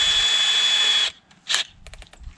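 A power drill drives a screw slowly into a wooden greenhouse roofing slat through a pilot hole, a steady loud whine for about a second, then stops, followed by brief scraping and clicking handling sounds.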